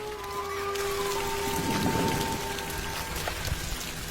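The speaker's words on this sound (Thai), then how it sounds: "ฝนตกแบบนี้เราบินไม่ได้" Heavy storm rain pours steadily throughout, a dense continuous hiss of drops with a faint tonal hum running beneath and no voices.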